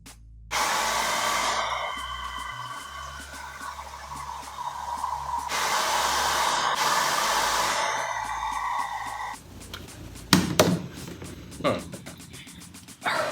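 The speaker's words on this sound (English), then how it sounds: "I'm blow drying this way, I blow dry up, blow dry down, blow dry this way" A hair dryer blows steadily on Korean-permed hair, loud and close, its whoosh rising and falling as the airflow shifts direction, then cutting off near the end with a few clicks and handling knocks.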